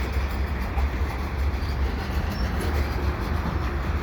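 CPKC freight train passing at Lachine, a loud continuous rumble of rolling railcars with steady wheel noise close by, no voices.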